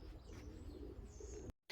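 Young pigeons coo softly inside a breeding loft, low murmuring calls with a few faint chirps over a steady background hum, cutting out briefly near the end.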